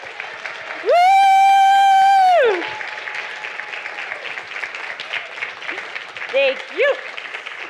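Audience applause for lab members at a lecture, a steady patter of clapping under a long whistled or sung tone, then a whoop and brief spoken thanks over the clapping.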